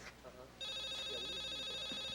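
A telephone starts ringing partway through with a steady electronic trill, loud and close, following brief talking in a tense scene from a police drama.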